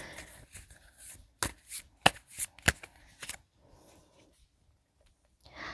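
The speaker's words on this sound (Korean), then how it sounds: "자, 그러면 우리 추가 카드 하나 더 뽑아보도록 하겠습니다." Tarot cards are shuffled and drawn at a table: soft riffling and slapping card sounds build into a few crisp snaps, then fade to near silence before a final rustle.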